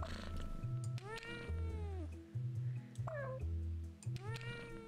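A large, awkward house cat meows repeatedly, four or five drawn-out, wavering cries close to the microphone, alone over a low steady hum.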